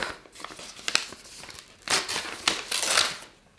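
Paper crinkles and tears in short bursts as an advent calendar envelope is opened up close, with a longer rustling stretch near the end.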